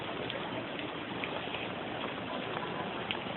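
Rain falling at a white sand beach in Puerto Galera, a steady soft hiss of drops, faint and continuous throughout with no voices.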